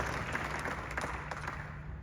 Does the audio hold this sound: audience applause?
yes